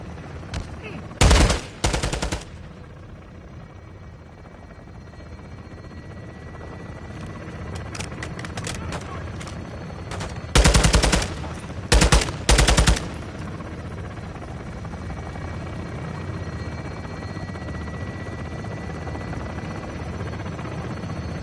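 Bursts of automatic gunfire in the Call of Duty Modern Warfare 2 video game ring out over a steady helicopter rotor drone, with several loud clustered volleys near the start and middle, then a continuous background roar.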